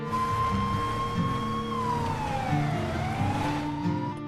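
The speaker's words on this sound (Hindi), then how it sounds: "ये तो पुलिस के सायरन की आवाज थी।" A police siren in an animation wails steadily, its pitch sliding down and back up, loud and continuous over a low rumbling background with no voices.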